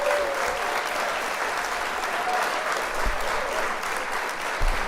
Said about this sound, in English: Can we give a round of applause one time to Jay for coming through here?